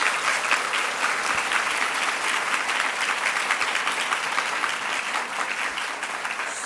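An audience at an indoor meeting applauding, a dense, sustained burst of many hands clapping together at a fairly close distance, fading slightly toward the end.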